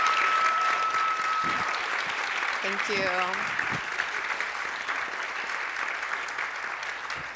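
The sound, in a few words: audience applause for a panel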